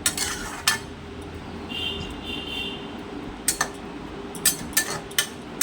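A spoon stirring lau saak curry with added water in a pan, giving scattered metallic clinks and scrapes, clustered early and again in a quicker run toward the end, over a low steady cooking hiss.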